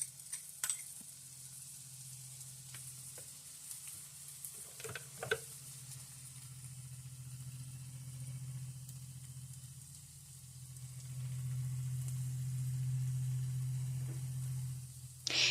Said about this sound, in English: So now I'm dumping the sauce in.